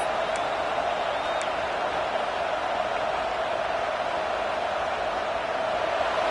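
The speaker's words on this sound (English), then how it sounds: "And this big crowd doing everything possible to inspire this defense down here near the goal line." A big football crowd roars steadily as it urges on the defense near the goal line, a dense, continuous wash of cheering and noise heard from within the stadium.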